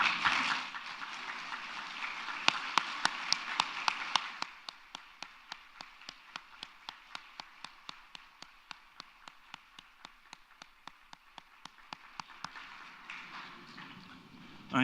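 Audience applause at the ICANN 48 welcome ceremony in Buenos Aires for introduced speakers, a dense steady clapping that thins into a run of separate sharp claps before swelling again at the end.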